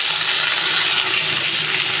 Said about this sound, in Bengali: সাদা তেল দিয়েছি, কালো জিরে দিয়েছি। এবার আলুটা দিয়ে দিচ্ছি